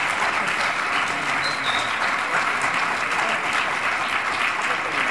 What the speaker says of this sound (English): You definitely deserved a round of applause.